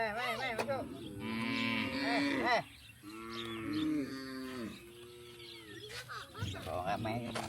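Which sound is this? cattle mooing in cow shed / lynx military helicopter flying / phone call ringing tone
cattle mooing in cow shed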